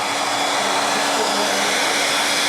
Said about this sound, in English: Hair drying the paint on a wooden duck.